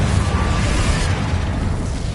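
A Confringo explosion spell cast in a Hogwarts wizarding video game: a sustained loud, noisy roar of blast and rumble lasting about two seconds, steady throughout with no talking over it.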